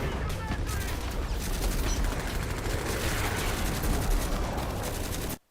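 Rapid, continuous autocannon fire from an animated Source Filmmaker battle scene, a dense loud barrage of overlapping shots lasting several seconds before cutting off abruptly.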